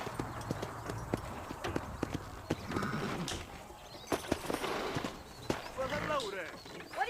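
Horse hooves clip-clop in Red Dead Redemption on Xbox 360, a string of close, sharp hoof strikes in an uneven rhythm, with game dialogue heard over them.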